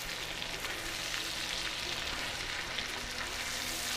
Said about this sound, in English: we're cooking liver and getting it where it's just browned up